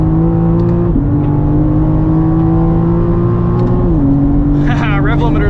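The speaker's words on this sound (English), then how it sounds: "Rev limiter's fun." A 2023 BMW M4 CSL engine in Sport Plus mode on a race track, holding a steady high-revving drone that dips briefly near the limiter before climbing again, loud and continuous, heard from inside the cabin.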